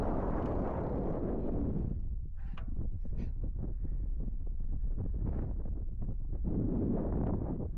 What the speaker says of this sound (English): Lovely and refreshing as well, all that wind.